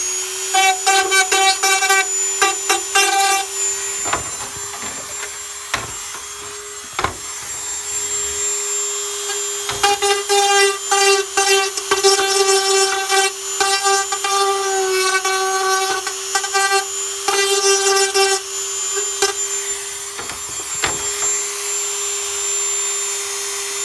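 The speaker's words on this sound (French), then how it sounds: "Alors on termine à la Dremel." A Dremel rotary tool trims and cleans up ventilation holes in a clear Lexan RC car body, a steady high-pitched motor whine that rises and falls as the bit bites in, with short pauses between passes.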